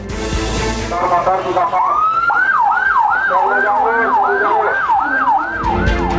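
A loud ambulance siren wails in a steady, rapidly repeating up-and-down pattern, close by, with traffic rumble underneath.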